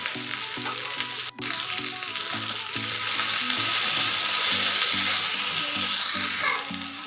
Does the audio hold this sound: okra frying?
yes